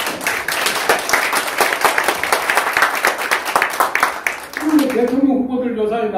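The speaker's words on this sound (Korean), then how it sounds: "박수 한번 해주십시오." A large audience bursting into applause at a speech, with dense, loud, sustained clapping that cuts off abruptly near the end, followed by a speaking voice.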